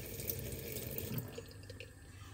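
Tap water runs steadily into a container holding eggs to be poached in a microwave, a continuous close splashing rush with no talk.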